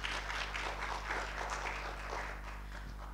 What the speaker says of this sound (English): A clap for Rachel.